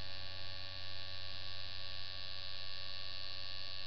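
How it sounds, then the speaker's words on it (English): A tattoo machine runs steadily during hand tattoo line work, giving a constant, even electric buzz that holds at the same level throughout with no voices. "I leave my tattoo machine running a lot"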